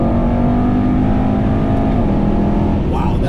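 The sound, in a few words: Mercedes-AMG E63S Wagon engine accelerating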